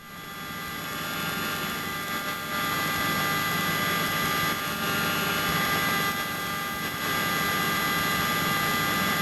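Helicopter flying over the Twin Cities in November 1993, a steady loud rotor and turbine drone with a whining engine tone heard from inside the cabin, continuous throughout.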